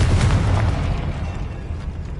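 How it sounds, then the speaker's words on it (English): An explosive Confringo spell blasts in Hogwarts Legacy, a loud, deep booming burst that rumbles and slowly fades over a couple of seconds. "Confringo!"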